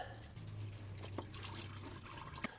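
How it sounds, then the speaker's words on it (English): Engine oil drips and trickles from the drain of a RAM 1500 with a 5.7 HEMI, soft close liquid patters and small splashes over a low steady hum, with a few sharper drops standing out. "So we are going to let it drip till a few drops come out"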